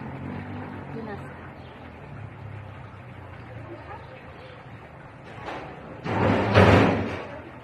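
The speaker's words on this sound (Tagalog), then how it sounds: "Parang kumakalabog yung pinto." A door bangs at a seaside resort in Kuwait during breakfast, producing a couple of loud thumps near the end that rise above a murmur of background talk and room noise.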